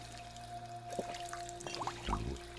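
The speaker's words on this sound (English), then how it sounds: "have a drink of water" Drinking water in Fallout 4, a short soft pouring and trickling of liquid under a steady low background hum, ending in a brief louder splash.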